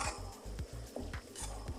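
Bitter gourd with shrimp stirred in a pan, faint rhythmic scrapes and clinks of a utensil over a low sizzle, several strokes in quick succession.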